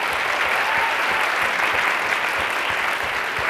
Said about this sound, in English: how about a round of applause for our leaders and their team?